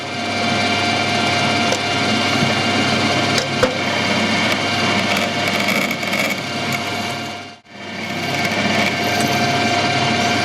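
A drill whines steadily while boring into a metal BSP-threaded airline adapter fitting, close and continuous, with one brief pause before it resumes.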